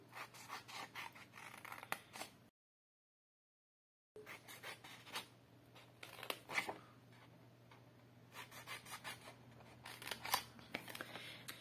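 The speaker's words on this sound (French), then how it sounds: "Donc je coupe le long des plis." Scissors snipping through folded cardstock along the creases of a small display box, a quiet run of crisp cuts and rubbing scrapes with a short silent gap partway through.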